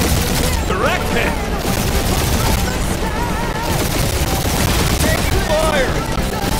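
Sustained gunfire from a fight in the video game Marvel's Guardians of the Galaxy, dense overlapping bursts and booms running the whole time, loud, with shouted voices over the shooting.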